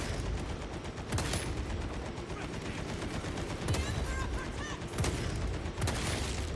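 Gunfire from Space Marine 2 crackles as dense, continuous battle noise, with several louder shot bursts punching through a busy, roaring mix.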